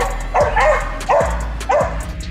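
A Bull Terrier barks three times with short, sharp barks spaced evenly. They sound close and clear against a quiet room.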